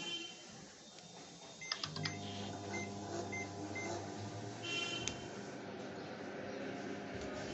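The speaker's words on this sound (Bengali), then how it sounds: "তারপরে এবার আমি মাইক্রোওয়েভটা চালিয়ে আপনাদের দেখিয়ে দিচ্ছি।" A microwave oven is set for three minutes and switched on: a few short keypad beeps, then the low, steady hum of the running oven takes over and continues evenly.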